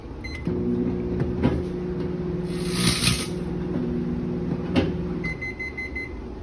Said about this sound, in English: I just placed it in the microwave and I'm gonna time cook it for 5 seconds